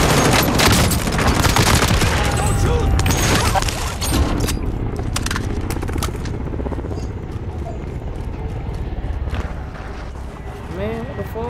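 Gunfire in a Call of Duty match: a dense, loud fusillade of rapid shots fills the opening seconds, then thins into scattered cracks and bursts as the action continues, with voices talking over it.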